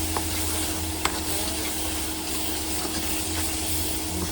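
Cumin seeds and green chillies sizzle steadily in a frying pan, a continuous close hiss with a few small pops and stirring clicks, no talking.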